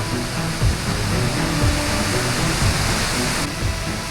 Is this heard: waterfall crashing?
yes